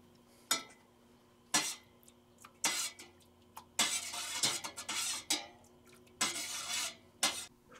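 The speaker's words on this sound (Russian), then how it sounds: "Забрасываем 500 грамм черной икры в соленый раствор и выдерживаем 3 минуты, при этом непрерывно помешивая ложкой." A spoon stirs 500 grams of black paddlefish caviar in a salt brine, making repeated close scraping and clinking strokes against the container in an irregular, ongoing rhythm with quiet pauses between.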